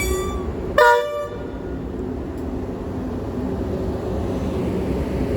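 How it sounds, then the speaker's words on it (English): Freightliner freight train led by Class 90 electric locomotive 90006, hauling towards Felixstowe, passes near; a loud short horn blast near the start gives way to a steady rumble of wagons. "our first freight of the day, which is a Freightliner pair of 90s going from Trafford Park Freightliner Terminal to Felixstowe North Freightliner Terminal"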